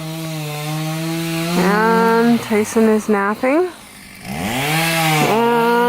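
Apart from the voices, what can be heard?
chainsaw sawing wood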